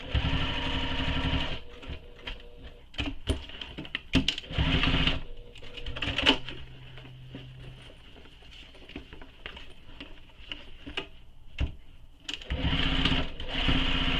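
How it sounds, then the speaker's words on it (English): A sewing machine stitches straight across a backpack strap and handle, running in rapid chattering bursts separated by pauses, close and moderately loud, with no talk. "So stitching straight across the strap and the handle."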